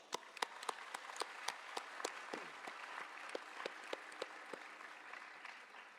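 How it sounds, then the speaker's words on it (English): Audience applause at a live arangetram dance performance, a fairly faint, even patter of many hands clapping continuously, with a few sharper individual claps standing out. "Everyone give a round of applause."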